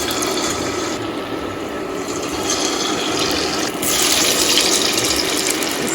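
Batter-coated potato wedges go one by one into hot oil, which gives a loud, steady, close sizzle and bubbling hiss that swells after a few seconds as more pieces are added.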